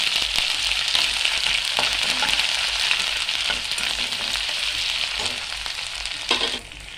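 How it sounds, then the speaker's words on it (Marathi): Ginger garlic paste frying with cumin seeds in hot oil for matar paneer gives a loud, dense, continuous sizzle up close, with a few faint stirring touches and a brief drop near the end, no voices. "आलं लसूण जे आहे ते मिनिटभर परतल्यानंतर"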